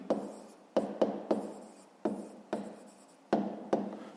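A pen writes an answer into a notebook in short scratchy strokes, about eight quick bursts with brief pauses between them, close and quiet with no talking.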